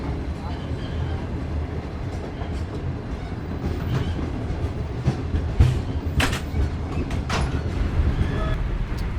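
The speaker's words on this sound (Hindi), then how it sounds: "किस तरीके से हमारा लोकोमोटिव नज़र आ रहा है आगे गोल घूमता हुआ, जो कि इस ट्रेन को लीड कर रहा है" The Shalimar Express passenger train running on rails, heard from inside a carriage as a steady low rumble with rhythmic clicks and rattles, a loud jolt midway, and voices in the background.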